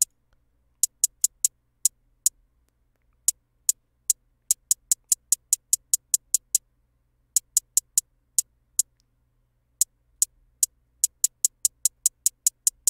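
Crisp, thin hi-hat ticks from a Trippy Hat 1 sample repeat in quick rhythmic bursts, fairly quiet and alone, with brief pauses between groups.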